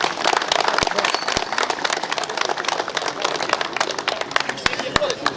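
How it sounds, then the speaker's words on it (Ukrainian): A crowd applauds football champions at a district awards ceremony, with dense, continuous clapping and a few sharp, louder claps throughout, while voices murmur underneath. "Оплесками ще раз вітаємо чемпіонів"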